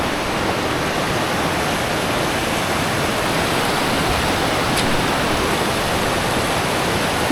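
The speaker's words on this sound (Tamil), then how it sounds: "இங்கே தண்ணி எவ்வளோ தெளிவாக வருது" Clear glacial river water flowing down from an ice mountain in Kyrgyzstan makes a steady, loud, broadband rush, constant and unbroken like a waterfall, with no voices over it.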